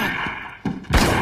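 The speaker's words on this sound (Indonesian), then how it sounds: "Dengan beberapa tembakan, Michelle memaksa Brandon berlindung ke dala" Several gunshots ring out in a dramatic film scene, a quieter thud early on followed by two loud, sharp blasts close together near the end.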